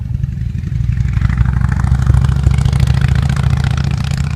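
A motorcycle engine drones loudly and close, swelling and holding a heavy, rattling low rumble as it goes by.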